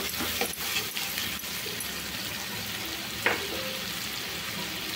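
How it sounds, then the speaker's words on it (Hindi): Ginger garlic paste with chili powder and turmeric sizzles in hot mustard oil for a bottle gourd curry, a steady close frying hiss with a couple of brief stirring scrapes. "तेल गरम है, अदा रसुण पिंजर पेस्ट चिल्ली पाउडर हल्दी पाउडर आड कर दे"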